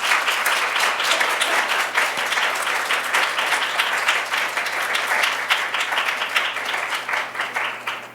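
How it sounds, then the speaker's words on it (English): Sustained applause from a symposium audience honoring its speakers, a dense, steady wash of many hands clapping at even loudness for about eight seconds, tapering slightly at the end. "Let's give all of our speakers another round of applause."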